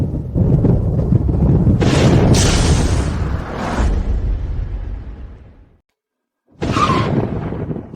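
A loud thunder clap from a clear sky, with a heavy rumbling roar and whooshing sweeps that fade into brief silence before another sharp burst.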